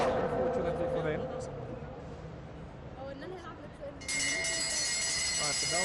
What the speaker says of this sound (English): the bell goes again